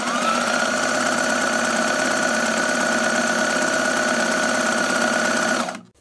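A sewing machine with a regular presser foot stitches knit fabric in one continuous run, a loud, close, even mechanical whir with a steady rapid needle rhythm that stops abruptly at the end; no voices.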